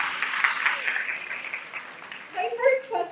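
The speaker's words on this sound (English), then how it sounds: "A round of applause for her," Audience applause for a woman at a Miss Universe talk event, a steady wash of clapping that fades out after about two seconds, followed by a voice speaking.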